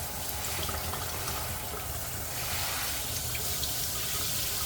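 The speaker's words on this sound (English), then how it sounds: "And you can see the water circling through it." Water runs through a carbon fiber shower head in a steady, loud hissing spray that holds constant throughout, with no talking.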